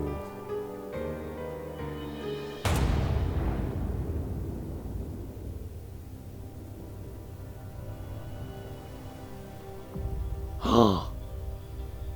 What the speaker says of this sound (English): Natasha shot him.